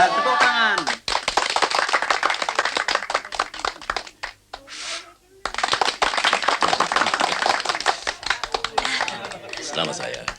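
A group of people clapping their hands right after a birthday song, dense busy clapping with voices mixed in, broken by a brief pause before resuming.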